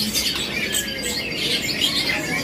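A songbird offered for sale at a bird shop kiosk calls continuously with bright, busy chirps and trills, loud and close over constant shop background noise.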